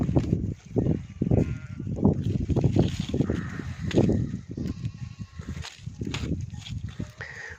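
Lambs and sheep bleat repeatedly in a wheat field where they are grazing, overlapping calls close by and fairly loud, with wind noise in the background.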